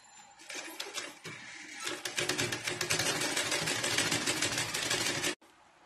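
A sewing machine runs along the side of a dupatta, starting with a few slow stitches, then speeding into a fast, rhythmic clatter up close before stopping abruptly.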